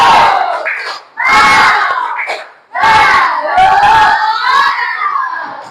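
A classroom of children claps in rhythmic bursts and shouts together in a group cheer, loud and close with short pauses between the rounds.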